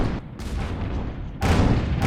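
Cannons fire across a canyon in an airship battle in Guns of Icarus Online, sharp heavy booms with rumbling tails, two or three loud blasts close together over a constant low rumble.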